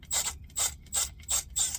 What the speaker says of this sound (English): This is a little light impact, and that'll help me get them off faster.